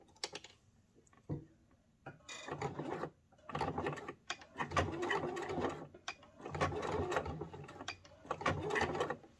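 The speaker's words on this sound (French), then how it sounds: "Et je couds à 1 cm au point droit, comme d'habitude." A sewing machine runs a straight stitch along a 1 cm seam through fleece and denim slipper soles, coming in several loud bursts of rapid mechanical stitching with short pauses between them.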